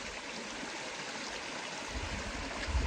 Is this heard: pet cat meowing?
no